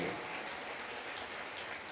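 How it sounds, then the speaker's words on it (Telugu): A church congregation clapping hands in praise during a live prayer service, a dense, quiet, even patter of applause heard from some distance. "చేతులు పైకెత్తి గట్టిగా చప్పట్లు ప్రభువును స్తుతించండి"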